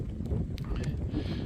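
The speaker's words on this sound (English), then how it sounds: "It's getting a little windy too" Steady wind rumbling and buffeting against the microphone during rain, a low continuous roar with no pauses.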